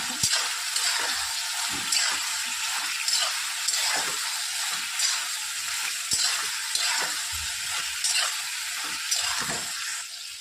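Eggplant curry with turmeric and salt stirred in a frying pan: a regular rhythm of spoon strokes scraping through a constant sizzle, close up and fairly loud, with no voices.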